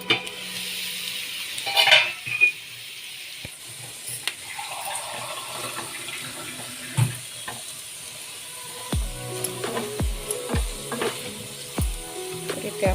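Potatoes cooking in a pan for a Marathi tiffin recipe: a soft, steady sizzle with occasional stirring scrapes, followed by several sharp clinks of utensils against the pan near the end.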